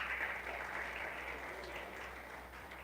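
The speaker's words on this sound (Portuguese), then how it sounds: "Você pode aplaudir o Senhor por isso, irmão?" A church congregation applauds, a fairly faint wash of clapping that holds steady and slowly fades over a few seconds.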